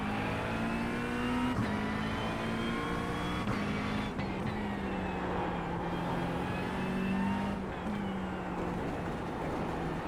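A McLaren GT race car at Zandvoort in iRacing roars with a loud, continuous engine note that climbs and falls through gear changes as it laps.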